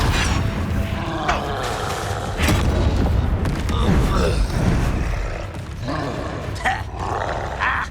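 A Depulso force spell cast in the game Hogwarts Legacy, a dense booming, roaring blast of magic mixed with combat noise and grunts, loud and continuous throughout.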